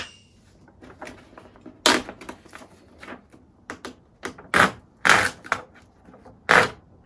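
Paper calendar pages being flipped over, giving a series of separate crisp rustling swishes at an irregular pace, each one close and fairly loud against a quiet room, with no talking.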